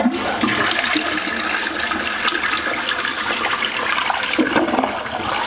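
Water rushes steadily through newly tested washer hook-up pipes in a house, a continuous loud gushing and hissing flow with small surges that lasts the whole stretch and has no voices.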